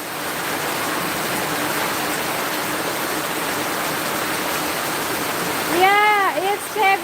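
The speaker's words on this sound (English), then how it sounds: "Yeah, normally I sit here, but it's too much heavy rain." Heavy rain pours steadily onto a garden with trees in California, a dense, even hiss throughout, with a voice briefly heard toward the end.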